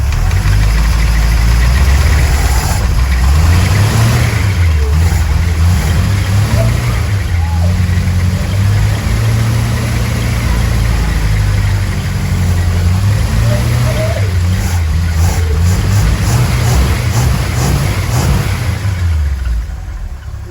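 A C50's engine idles loudly and steadily through its newly fitted exhaust, a deep rumble that rises and falls as the revs change, continuous throughout.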